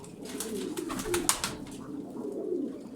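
Soft, low cooing from crested pigeons repeats gently over a steady background murmur, moderately close, with a few faint higher sounds scattered among the calls.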